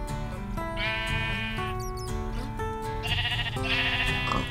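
Sheep bleat over and over in the Minecraft game, several long wavering calls over cheerful background music and a few smaller game sounds, with no talk.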